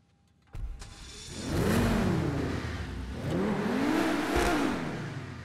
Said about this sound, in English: Let's do a quick startup test.